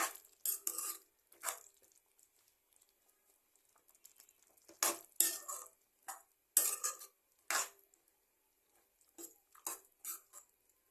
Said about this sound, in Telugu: మొత్తం ఒకసారి మిక్స్ చేసుకుందాం.